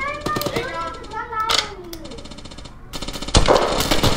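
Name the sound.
pistol gunfire in the video game Shell Shockers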